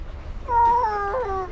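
A cat lets out one drawn-out, wavering meow close by over a low background rumble, the cry sliding in pitch as it goes.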